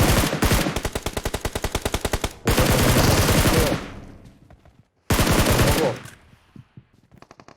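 Rapid machine-gun fire in an online shooter game: sustained loud bursts with sharp rhythmic shots, a brief pause with fading echo, then another dense burst trailing off into scattered distant shots.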